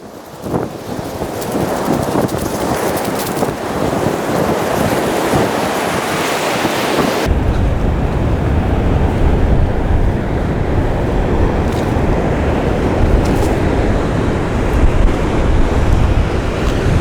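Ocean waves break on the beach at Red Rock in a continuous, loud surf roar, heavily buffeted by wind noise that shifts character partway through, with no one speaking.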